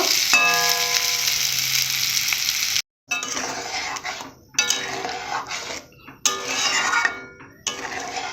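Soybean nuggets and potatoes fry for a curry, sizzling steadily until a sharp cutoff, then crackle in bursts broken by pauses as water goes in, with clinks of utensils against the pan.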